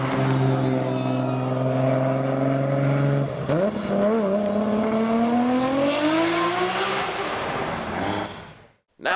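Nissan Skyline GT-R with a 2.8 liter stroker engine and Precision 7175 turbocharger, over 1000 horsepower, revving hard and loud, climbing through a long pull before cutting off abruptly.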